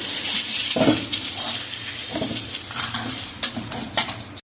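Hot oil sizzles steadily in a pan as fried tangra fish is lifted out, a utensil scraping and clinking against the metal a few times, close by.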